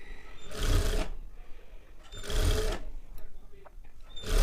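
A sewing machine stitches a blouse in two close, loud bursts of rapid running, with short pauses between them.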